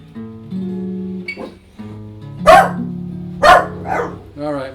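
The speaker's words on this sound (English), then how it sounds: "my dog's barking" A dog barks several times at close range, with sharp loud barks and a whimpering yip over sustained guitar tones ringing underneath.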